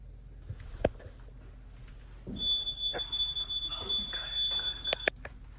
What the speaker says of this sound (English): They set off the sensor,